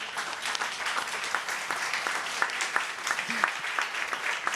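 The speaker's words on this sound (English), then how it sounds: "I would like to ask you a big round of applause for them" A crowd applauds steadily, dense clapping filling the room at an even level from start to finish.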